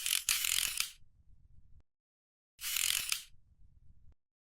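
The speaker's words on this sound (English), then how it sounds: "Position it carefully and fasten it with the 3 screws provided." Screws being fastened into the media guide of an Afinia CP950 label printer: two separate bursts of ratcheting, whirring driver noise, each settling into a low rattle before stopping, close up with quiet in between.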